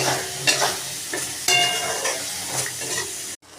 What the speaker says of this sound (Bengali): এবার দিয়ে দেবো সর্ষে আর পোস্ত বাটাটা দিয়ে দিলাম, দিয়ে ভালো করে মিশিয়ে নিচ্ছি